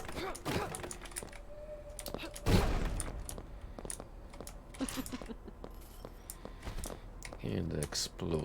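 Explosive-round weapon fire in the shooter Nightmare Reaper, heard as a quick run of sharp clicking and popping shots with one heavier blast near the middle, set against a busy, fairly quiet game mix.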